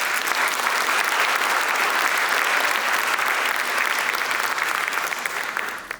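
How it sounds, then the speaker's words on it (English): An audience applauds loudly at a classical Indian dance recital (arangetram), with dense, continuous clapping that stays level throughout before fading out at the very end. "Let's give Mahanti another round of applause."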